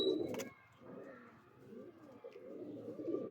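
Madrasi pigeons coo softly nearby in low, throaty rolling calls, with a short clatter near the start.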